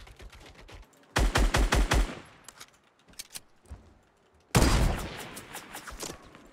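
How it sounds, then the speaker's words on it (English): Rapid automatic gunfire from the Fortnite Battle Royale video game, two loud bursts of quick repeated shots with scattered single shots and quieter clicks between them, no talking. "What is he shooting me with?"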